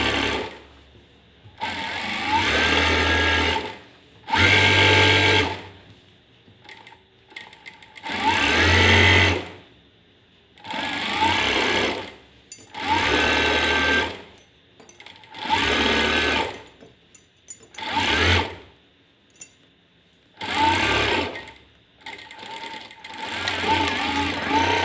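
A sewing machine with a pico pressure foot stitches a saree hem in repeated loud bursts of rapid whirring, each lasting a couple of seconds and separated by short pauses.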